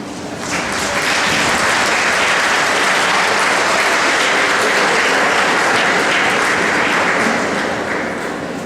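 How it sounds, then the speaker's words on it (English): Graduates give their families a big, sustained round of applause at a graduation ceremony, a dense crowd roar of clapping that swells in, holds steady for several seconds and tapers at the end. "give all of your family a big round of applause"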